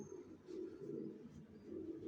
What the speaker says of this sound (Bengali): সব নিজের লফটের কবুতর